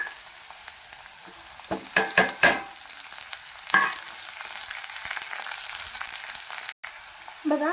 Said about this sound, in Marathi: बघा, कांदा टोमॅटो चांगला फ्राय झालेला आहे